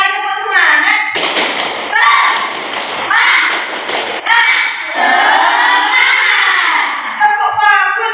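Schoolchildren in an Islamic religious-studies classroom perform the rhythmic 'tepuk semangat' clapping routine, chanting together with bursts of sharp, patterned claps recurring every second or so.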